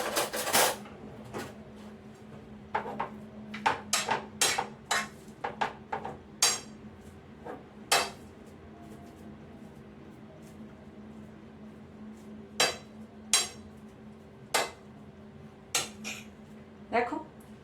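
A spoon clinks against dishes while stuffing is prepared for a lunch-box paratha, with scattered sharp metallic taps and scrapes at irregular intervals, some clustered, others spaced apart, over a quiet kitchen hum.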